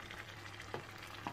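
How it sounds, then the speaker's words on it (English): Young papaya stir-fried in a pan with lime leaves and lemongrass leaves, giving a faint, steady sizzle with a couple of soft clinks of stirring. "And keep stirring it."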